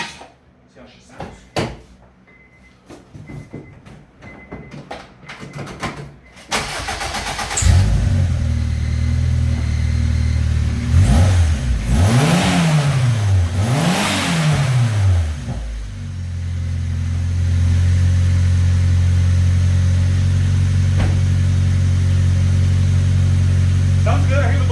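An EM2 car engine with a freshly fixed boost leak and Stage8 bolts starts after some clicks and handling noises, then idles and revs in a few rising and falling sweeps before settling into a steady, close idle.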